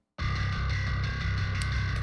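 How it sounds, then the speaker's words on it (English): Bass guitar plays a steady, heavy low line after a short silence, loud and continuous with some grit on the tone. "I also have a bass guitar that sounds like this."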